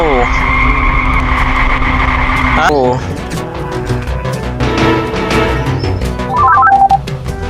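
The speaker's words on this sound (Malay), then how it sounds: "Sekarang ni kita naik kereta je lah untuk ke sana." A car drives in the Ice Scream horror video game, a steady loud engine drone with tonal hum that shifts in pitch partway through, accompanied by game music and electronic beeps.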